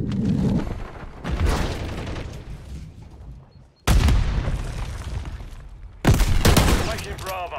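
A frag grenade explodes in Call of Duty MWIII amid heavy in-game gunfire, with loud booms and bursts cutting in abruptly over continuous battle noise.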